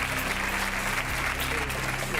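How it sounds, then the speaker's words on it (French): A French television studio audience applauds, dense steady clapping over a low hum, continuous and fairly loud for a couple of seconds. "Et on vous applaudit, madame."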